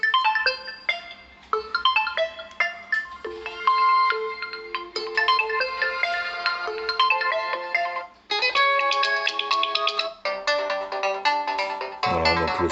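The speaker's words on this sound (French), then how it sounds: "je vais vous faire écouter le son de la sonnerie." An OPPO Reno4 Z smartphone plays its ringtone, a bright melodic electronic chime of quick repeating note patterns that runs steadily for about thirteen seconds and ends in a denser final phrase, with no talking.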